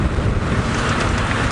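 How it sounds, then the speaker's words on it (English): Strong wind on a coastal safari drive buffets the microphone in a constant, loud rumbling roar with no voices. "It's so windy."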